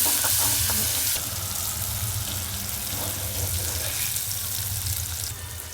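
Tomato sizzling and frying in a pan while a rustic village vegetable dish of vasheti flowers is being cooked, a steady close, loud hiss with small crackles and a brief stirring clatter near the start.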